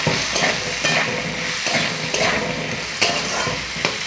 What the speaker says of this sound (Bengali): দিয়ে আলুটা আমি ভেজে নেব